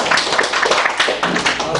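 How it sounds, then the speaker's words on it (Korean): A workshop audience at an Agile conference in Korea claps together in a dense, even round of applause. It is loud and close and lasts under two seconds. "박수!"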